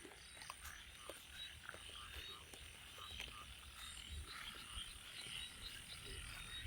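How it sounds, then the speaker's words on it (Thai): Small frogs croak steadily in a chorus in rice fields during light rain, with many overlapping short calls at a moderate distance and a constant buzz of night insects underneath. "แต่ได้ยินเสียงเขียดอยู่แล้วครับ"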